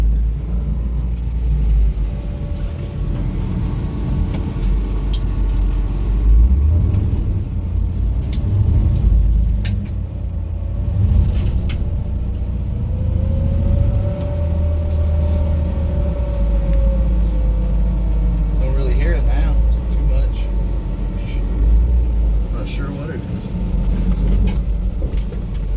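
A 1964 Chevrolet Impala out on a test drive after restoration, a loud continuous engine and road rumble with shifting engine tone throughout, recorded close from inside the car.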